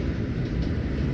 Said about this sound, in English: This westbound manifest is coming off of the former C&W main line onto the Transcon line, heading west to Bailey Yard